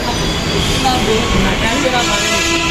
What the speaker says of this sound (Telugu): metro is coming guys